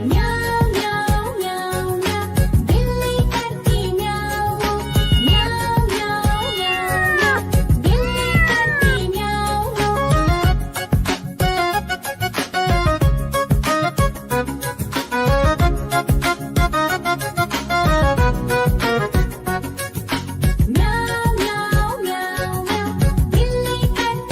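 A sung children's rhyme in which a voice imitates a cat's meow again and again, the meows riding over bouncy, continuous backing music.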